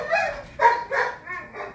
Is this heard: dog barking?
yes